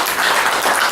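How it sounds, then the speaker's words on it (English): A live audience at a comedy show applauding, a dense wash of clapping hands filling the room, loud and steady throughout a short burst. "Give Nikita a round of applause."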